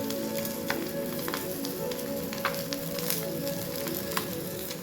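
Chopped garlic and onion fry in hot oil with crab already fried in the pan, giving a steady soft sizzle with light crackles and small pops, fairly quiet and alone.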